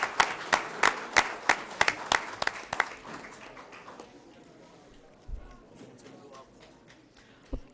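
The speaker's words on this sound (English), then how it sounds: "One round of applause as they join us on the stage." An audience applauds a middle school swim team at a school board meeting, with a loud burst of clapping that thins to scattered claps and fades.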